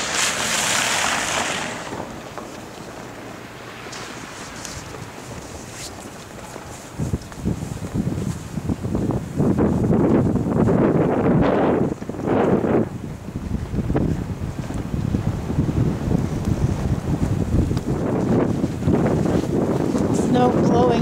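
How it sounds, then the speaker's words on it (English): Strong post-blizzard wind roars steadily against the microphone in a snowy outdoor setting, gusting louder in bursts with rumbling buffeting throughout. "The wind is still blowing."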